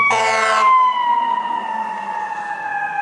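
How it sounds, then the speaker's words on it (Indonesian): Fire truck siren wailing loudly and close, a single sustained tone sliding slowly downward after a brief harsher burst at the start, with no voices. "Mobil pemadam kebakaran."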